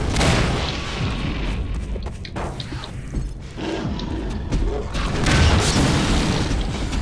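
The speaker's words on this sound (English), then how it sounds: "Let's fire explosive barrels at things." Explosive barrels blowing up in the video game Half-Life 2, a run of deep booming blasts and thuds with rumbling debris spread across the stretch, loud and continuous.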